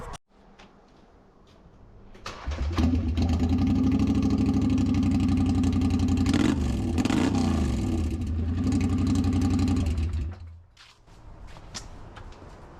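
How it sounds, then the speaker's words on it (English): An ATV with a blown-out muffler runs through a wide-open exhaust, starting up after a quiet moment into a loud, rough, close roar that holds for about eight seconds with slight revs, then cuts off. "so it's just a big wide open, very, very loud exhaust"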